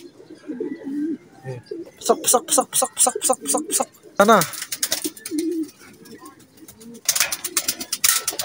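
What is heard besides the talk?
racing pigeons cooing on arrival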